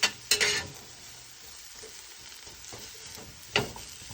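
Sweet potatoes fry in butter in a pan with a continuous soft sizzle, broken by a few louder scraping clatters of a utensil stirring them.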